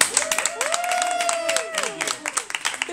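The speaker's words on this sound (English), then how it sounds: "Can we give him a round of applause?" A crowd cheers and claps for a birthday at an afternoon celebration, scattered hand claps ringing out beneath a loud vocal whoop that rises and falls, then fading into lighter scattered clapping.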